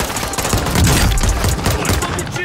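Loud bursts of rapid gunfire and booming grenade impacts from a Call of Duty: Warzone 2.0 battle, dense and continuous across the whole stretch.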